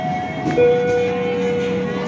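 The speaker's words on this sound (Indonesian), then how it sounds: "Yang masuk ini adalah kereta api Malabar Pagi dari Bandung tujuan akhir Malang." Malabar Pagi passenger train from Bandung bound for Malang pulling into an Indonesian station, a steady low rumble with a sustained horn-like tone and background station ambience.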